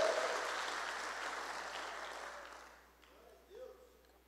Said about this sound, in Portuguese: Você pode aplaudir a Jesus mais alto para não deixar o irmão com vergonha?